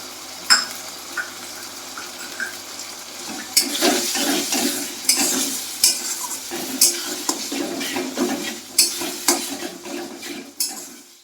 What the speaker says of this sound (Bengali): এই পেস্টটা দিয়ে একটু নাড়াচাড়া করার পরেই আমি এর মধ্যে ওই যে টমেটো যে কুচি করে রেখেছিলাম টমেটোটা সেই টমেটোটা দিয়ে দিচ্ছি